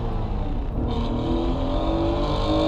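A Honda NSX Type S six-cylinder engine pulls hard under acceleration, a loud, steady rising drone with climbing harmonics over about three seconds, heard from close by.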